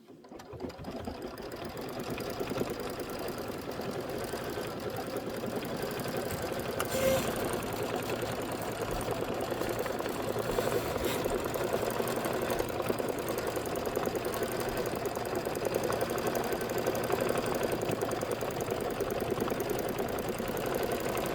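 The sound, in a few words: sewing machine stitching down fabric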